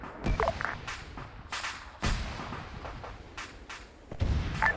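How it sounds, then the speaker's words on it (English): Missile launch and weapon fire in ARMA 3 Zeus on the island of Tanoa: several dull thumps and sharp cracking bursts at irregular intervals, moderately loud against a steady rumbling background. "It sounds like a missile already fired"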